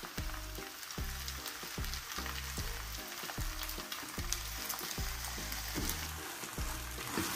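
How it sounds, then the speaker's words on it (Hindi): Canton noodles frying in a pan as orange juice mixed with cornflour is added, a continuous hissing sizzle with rhythmic low scraping knocks of stirring, close and moderately quiet, no voices. "अब हम इसमें लास्ट में ऑरेंज जूस ऐड कर देंगे जिसमें हमने कॉर्नफ्लोर"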